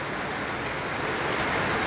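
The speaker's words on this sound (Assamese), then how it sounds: "আজি এনেকৈ বৰষুণ দি থাকিলে ওপৰত আহিলোঁ" Steady rain falls around a house, a dense, continuous hiss of drops on surfaces at close range with no break and no voices.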